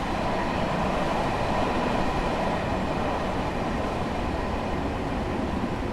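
A Long Island Rail Road train in Train Sim World 3 races through a station at overspeed, giving a steady, loud, continuous rumble and rail roar with no let-up.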